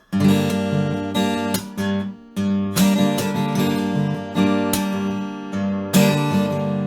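An acoustic guitar plays a short strummed introduction to a piece with ringing chords and a few brief pauses between phrases.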